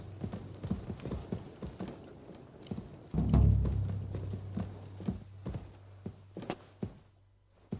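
Horse hooves clip-clopping in the video game Kingdom Come: Deliverance II, a steady walking rhythm of close hoofbeats with a heavier thump partway through and a low ambient hum underneath.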